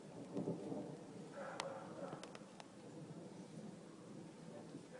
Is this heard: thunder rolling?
yes